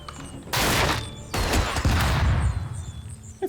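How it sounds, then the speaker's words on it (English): A flashbang grenade goes off in the tactical game Tastee: Lethal Tactics, a loud broadband blast followed by a second burst and a hissing, ringing tail that lingers for a couple of seconds, with no talk over it. "Is that a perfectly timed flashbang?"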